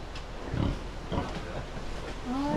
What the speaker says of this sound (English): Oh, that's a happy pig.